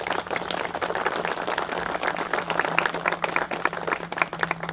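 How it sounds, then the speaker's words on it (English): Audience applause in a hall, a sustained crowd of many hands clapping at a moderate level, with a low steady hum beneath. "give them a round of applause"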